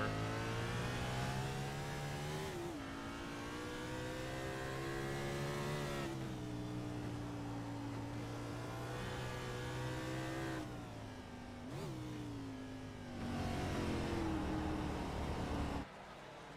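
Race cars at Daytona in a racing sim series drone loudly past with rising and falling engine pitch, several gear changes and shifting revs, steady and close throughout, with no talking.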